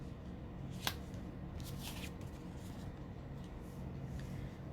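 Tarot cards riffle and slide as a deck is shuffled and straightened, with soft, scattered rustles and one sharp tap over a steady background hiss and no talking.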